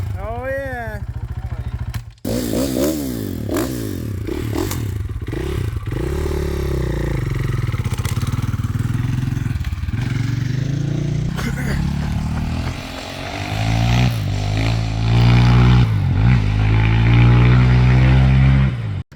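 Tuned KTM 450 dirt bike engine, single-cylinder, close and loud, revving up and down with rising and falling pitch, then pulling away with sustained throttle; voices talk over it intermittently.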